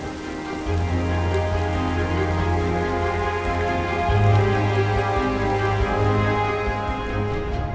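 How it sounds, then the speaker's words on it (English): Heavy rain and high winds lash a northern Canadian lakeside lodge area, a steady loud broadband roar of downpour with a continuous low drone running throughout, no voices present. "high winds and rain bombarded the area"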